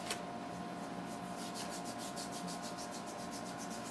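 Foundation cream is rubbed into skin, a soft, close swishing with a fast, even back-and-forth rhythm and no talk.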